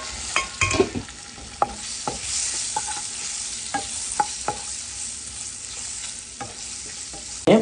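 Quail eggs fry in a masala in a pan, a constant loud sizzle broken by sharp regular clicks of a spoon stirring and scraping, with no voices.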